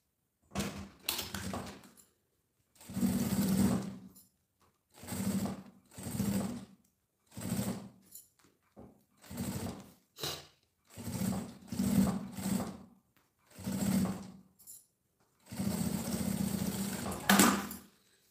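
Sewing machine stitching a fabric cosmetic case, running in short repeated bursts of a few seconds each, separated by brief pauses, steady and close.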